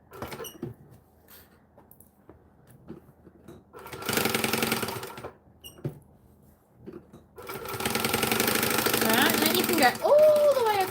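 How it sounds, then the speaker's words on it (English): A sewing machine stitches fabric for a possum pouch, an eighth of an inch from the edge, in two loud close bursts of rapid mechanical whirring separated by quiet pauses, with a short squeak at the very end. "I'm stitching 1/8 of an inch from the edge."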